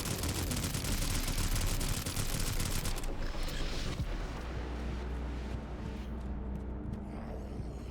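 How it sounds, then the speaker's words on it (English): Dense, continuous gunfire from a battle royale video game fills the first few seconds, loud and close, then gives way to a lower rumbling background with scattered distant shots. "Shooting you in the butt."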